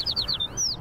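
Several quick, bright bird chirps in the Little Kitty, Big City video game, a close rapid series of short tweets over a soft background.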